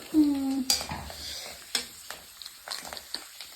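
Kurdai frying in oil, a quiet crackling sizzle with scattered stirring clicks against the pan, close by, after a short high squeak at the start.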